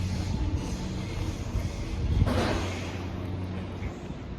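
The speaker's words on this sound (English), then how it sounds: "One train has just left" A train pulls out of a Sydney railway station, a low steady rumble with a swelling whoosh midway, heard from the platform amid station ambience.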